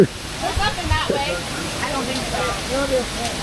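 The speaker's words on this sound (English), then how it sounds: "50-foot falls" A 50-foot waterfall at Havasupai gives a steady, close rush of falling water, with people talking and exclaiming over it throughout.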